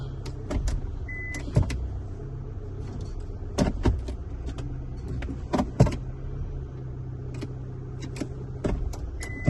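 Electric side mirrors on a used car at an auction inspection in South Korea whirring as they fold and adjust, with short motor hums among clicks and small clunks from inside the cabin, no talking.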